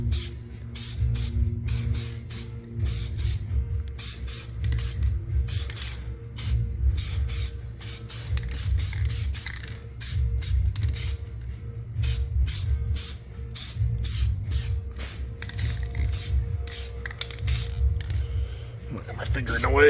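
Short repeated bursts of hiss from an aerosol can spraying a quick tack coat of wheel dip onto a car wheel, fairly close, in an irregular pulsing rhythm with brief gaps between sprays.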